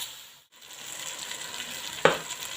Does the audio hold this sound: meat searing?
yes